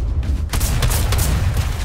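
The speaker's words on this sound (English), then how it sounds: "is that the drum gun?" Rapid drum gun fire in Fortnite, a dense stream of loud, booming shots in quick succession with no pauses.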